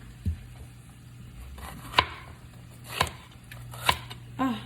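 A small, dull knife chops onions and peppers on a little cutting board, giving several distinct thuds spaced about a second apart, close by, with a voice speaking between the cuts.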